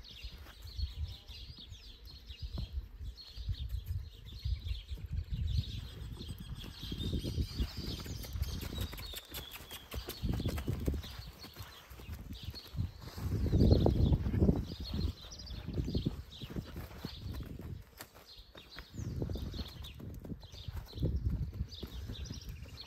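A chestnut roan horse moves outdoors in Tandil, Buenos Aires, hooves thudding irregularly on the ground at moderate distance, with birds chirping faintly in the background.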